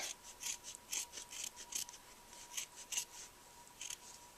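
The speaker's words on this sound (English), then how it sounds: "cut it out as tight to the shape as possible" Scissors snip through an art mask, cutting closely around its shape in a quick run of short, crisp cuts with brief pauses between them, close and fairly quiet.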